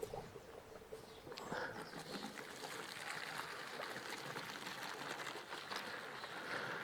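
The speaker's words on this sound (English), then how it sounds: "Let's take some soap, some washing up liquid, and let's put in some hot water." Hot water mixed with washing-up liquid poured into a container, a steady close splashing, trickling pour that swells after the first second and runs on continuously to the end, with no talk over it.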